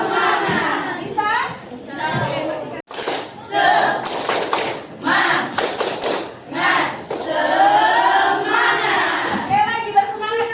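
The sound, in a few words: group doing the 'tepuk semangat' spirit clap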